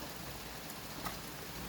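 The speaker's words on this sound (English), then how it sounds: "It's raining." Steady rain falls outdoors in a backyard where chickens and ducks roam, a constant even hiss of drops with no talk.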